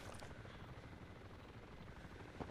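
A helicopter in the video game ArmA 2 Operation Arrowhead, its rotor and engine producing a dense, steady broadband drone with a faint rhythmic thrum, continuous and moderately loud with a brief rise at the end.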